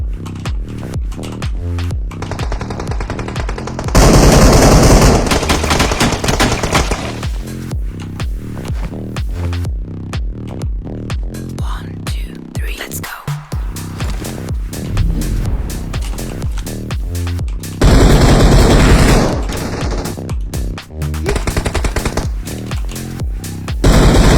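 Gunfire in a shooting video game, loud bursts of shots erupting repeatedly over a dense, rhythmic musical soundtrack, with brief louder volleys standing out.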